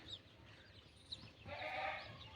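A young goat bleats in a farm setting, one strained call rising near the end over a low background hum, fairly close but not loud.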